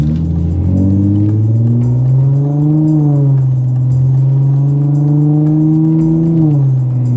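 An Infiniti G35 engine pulls hard through its gears, a loud, steady, close-up drone that climbs in pitch, drops briefly at each shift and climbs again, with no talking over it.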